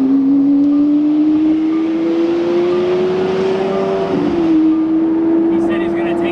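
A car engine drones steadily from inside the car while it is driven, its pitch slowly climbing, dipping briefly, then holding, loud and close throughout.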